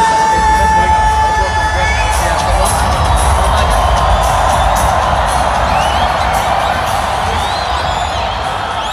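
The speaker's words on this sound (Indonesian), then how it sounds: "Kita berikan tepuk tangan untuk" A large stadium crowd at Jakarta's Gelora Bung Karno cheers and applauds ahead of a legends exhibition football match, a loud, continuous roar of voices and whoops filling the whole stretch.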